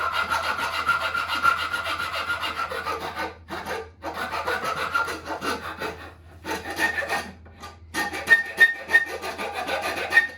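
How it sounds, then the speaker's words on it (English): A hand file rasps steadily back and forth on wood in long strokes with brief pauses, a gritty scraping close up and fairly loud. "I'm going to make the neck by just running the file along like this."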